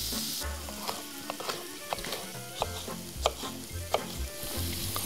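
Garlic and ginger stir-fried in a hot pan give a steady close sizzle, broken by regular scraping clicks as they are stirred, with no talking.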